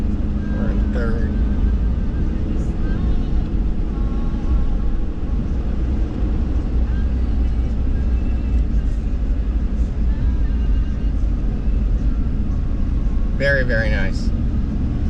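A heavy-duty pickup truck towing a fifth-wheel trailer, rolling at about 40 mph in third gear just after a downshift, with a steady loud road and engine drone heard from the cab while a person talks briefly.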